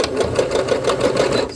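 Sewing machine back stitching on a beginner sewing project, a loud close rapid mechanical chatter of the needle with quick regular pulses throughout the short burst, no talking.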